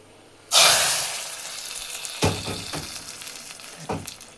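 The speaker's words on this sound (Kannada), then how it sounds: "ನೆಕ್ಕಿಟ್ಟೆ ಒಗ್ಗರಣೆ ಪಾಡ್ಕ" Spices for a tempering drop into hot oil with a sudden loud sizzle, which stays bright and hissing, then fades slowly, broken by a couple of stirring scrapes and clinks.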